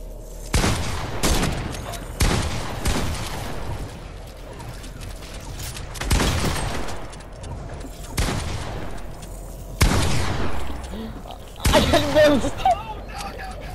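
Rapid bursts of gunfire from the video game Fortnite ring out in several loud volleys spread across the stretch, with brief gaps between them and a voice talking over the shots.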